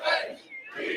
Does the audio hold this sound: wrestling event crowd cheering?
yes